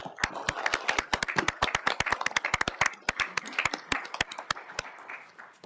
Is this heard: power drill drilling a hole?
no